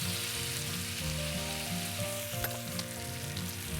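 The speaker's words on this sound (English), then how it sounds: "You can hear that great sizzle that we get from the cast iron." A steady, close sizzle of fish frying in a hot cast iron pan, with faint crackles and a low hum underneath.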